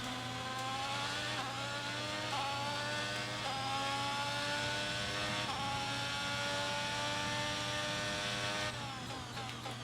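A Formula 1 car from the F1 2022 video game revs through repeated gear shifts, its engine pitch climbing and dropping in steady steps, a sustained mechanical whine with rising harmonics from start to finish.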